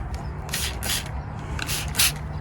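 A handheld spray bottle mists water mixed with hydrogen peroxide onto garden plant leaves in four or five quick close hissing bursts.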